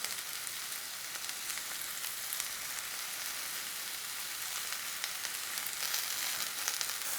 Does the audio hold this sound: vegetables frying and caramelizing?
yes